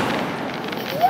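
Fireworks at a Fourth of July celebration make a continuous, rumbling crackle with a rising whistle near the end, heard from a distance amid crowd noise.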